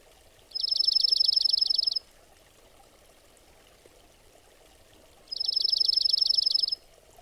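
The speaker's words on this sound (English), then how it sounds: "Dark-eyed junco." A dark-eyed junco gives two rapid trills of one repeated note, each lasting over a second, separated by a pause. Both are fairly clear against a faint, steady background hiss.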